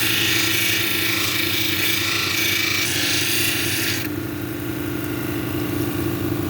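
An agate cabochon is polished on a 1200-grit wheel. Steady wet rasping and rubbing runs over a continuous motor and water-pump drone, close and loud, and the scraping eases off near the end.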